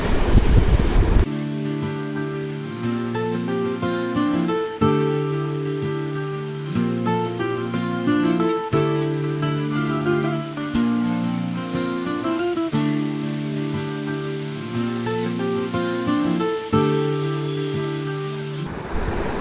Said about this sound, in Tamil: இந்த அருவியோட அப்படியே ரியலான சவுண்டு